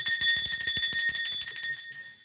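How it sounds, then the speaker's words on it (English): A bell rings repeatedly in quick succession, bright and close, its metallic tone sustaining and slowly fading over a couple of seconds. "Let me ring this bell because this energy was fire."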